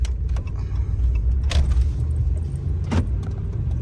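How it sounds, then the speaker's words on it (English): A RAM 1500 pickup truck's engine rumbles low and steady from inside the cab after a front brake rotor and pad replacement, with a couple of sharp rattles and clunks breaking through the drone. "So I'm gonna start driving it now"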